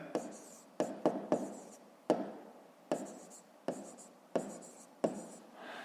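Chalk or marker writing out numbers on a board during a fifth-grade maths lesson, a series of short scratchy strokes, each starting sharply and trailing off, close and fairly quiet.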